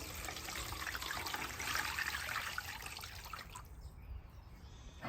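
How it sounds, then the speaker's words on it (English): Water pours and trickles into a salt and ice brine container for pastrami brisket, a steady close splashing that fades out near the end. "Pour the rest of that water in there."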